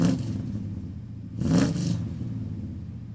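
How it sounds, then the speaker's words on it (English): A 1997 GMC Sierra pickup with long tube headers rumbles with a deep exhaust note, giving one brief rev swell mid-clip before settling back to a steady idle. "The long tube headers make the exhaust sound fantastic."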